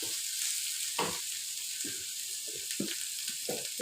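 Food sautéing in a pan, a constant bright sizzle with a run of short scraping stirs at an uneven pace, close and moderately loud, no speech.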